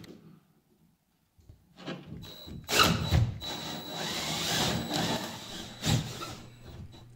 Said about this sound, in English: This time both holes drilled out nicely